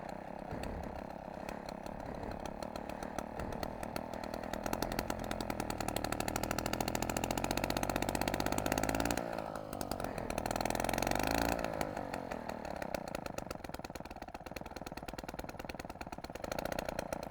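A restored 1960s moped's small engine runs at a low idle, a steady buzzing drone with a brief rev and dip midway, close by with no talking.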